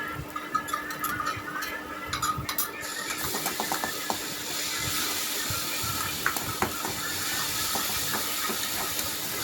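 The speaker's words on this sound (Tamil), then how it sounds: "இஞ்சி பூண்டு விழுது போட்டு வதக்கிக்கலாம்" Ginger garlic paste sautés in a pan for chicken curry, starting with scattered scraping clicks of stirring and settling into a steady soft hiss of frying, with no speech.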